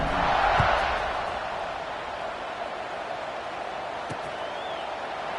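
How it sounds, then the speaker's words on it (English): A stadium crowd in the College Football 26 video game, Penn State against Buffalo, gives a broad, sustained buzz after a score. The roar swells at the start, then settles into a steady hum of noise. "this crowd is buzzing after that last score"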